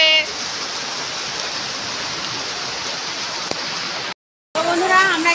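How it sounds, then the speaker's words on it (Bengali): Steady rain pours down outdoors along a road home from a market, a dense even hiss that holds for about four seconds, cuts out briefly, then resumes. "অর্ধেক রাস্তা আসতে না আসতেই শুরু হয়ে গেল বৃষ্টি।"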